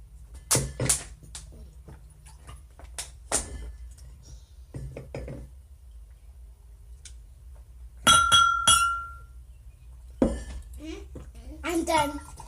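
Drinking glasses clink together in a few bright, ringing knocks spread through the moment, while an adult and children talk nearby.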